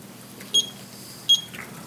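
A debate timer at a town chairman debate gives two short, clear electronic beeps about three-quarters of a second apart, over faint room hum.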